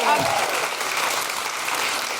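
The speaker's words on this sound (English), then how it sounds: "Big round of applause for Mary Lynn Rajskub." Sustained applause from a live podcast audience, a dense patter of clapping, with a voice speaking briefly at the start.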